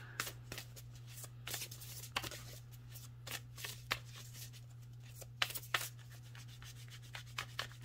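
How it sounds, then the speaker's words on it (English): A deck of tarot cards is shuffled by hand in quick, irregular riffles and soft rubbing swishes. It is close and fairly quiet, with a low steady hum underneath. "I got my eyes closed when I shuffle these,"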